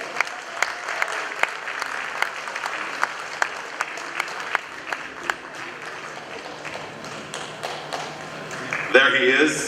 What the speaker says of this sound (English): Shall we do some more applause for him as he makes his way here onto the stage?